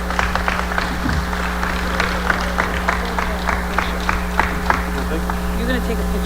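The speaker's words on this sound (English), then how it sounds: "Please, a round of applause for them." An audience claps at an awards session, a sustained patter of applause with scattered sharper claps over a steady low hum, with voices mixed in.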